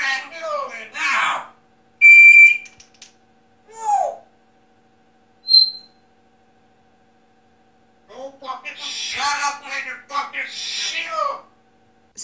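A parrot mimics a heated argument in several different voices, producing short bursts of speech-like squawks separated by pauses, with a few sharp electronic-sounding beeps in between.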